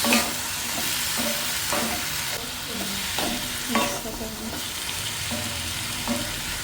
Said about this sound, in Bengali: এই মিষ্টি কুমড়াটা ভাজি হয়ে গেছে ভাজতে ভাজতে চুলে একবার ভর্তা হয়ে গেছে